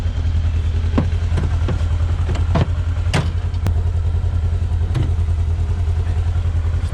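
A worn, beat-up 2016 Polaris RZR 900 Trail side-by-side runs steadily, its engine holding a low, even idle with a few sharp clanks and ticks rising above the drone, close by and loud with no talking.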